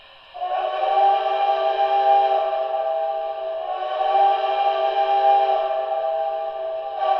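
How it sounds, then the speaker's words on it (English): A long crossing whistle from an MTH Great Northern S-2 model locomotive blares continuously for several seconds, dipping briefly in the middle before swelling again, loud and close. "Crossing whistle."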